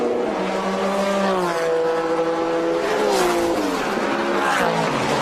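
Vintage race cars, Datsuns among them, roar past on a race track, engines droning loud and shifting pitch as they pass, with a brief tire squeal.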